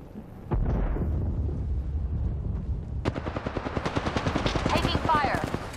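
Gunfire in the Apex Legends video game, a rapid burst of loud shots that starts after a moment and continues in quick regular cracks for several seconds under a rumbling battle background.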